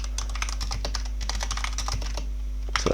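Rapid typing on a computer keyboard, close and crisp, with irregular bursts of key clicks and short pauses and no other sound over it.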